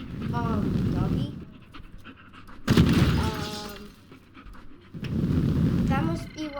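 A dog pants in rapid bursts in the video game Teardown, with crashing, breaking debris sounds in between and a person talking over the top.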